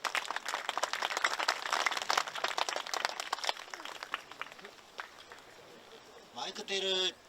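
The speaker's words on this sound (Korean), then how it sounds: "박수로 모시겠습니다." Audience applause at a memorial ceremony for independence activist Ahn Jung-geun, a dense burst of clapping in a hall that gradually thins out, followed by brief speech near the end.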